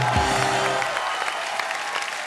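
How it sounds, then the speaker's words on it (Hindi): A studio audience on a comedy talk show claps in a dense, even burst of applause that holds steady and then tapers slightly, with a brief musical sting at the start. "एक बार अक्षय पाजी, अभिषेक और रितेश के लिए जोरदार तालियां हो जाए"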